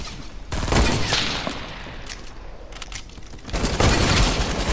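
Rapid automatic gunfire from a thermal-scoped assault rifle in a video game battle, dense bursts of shots with a quieter gap in the middle, loud and close with no talk.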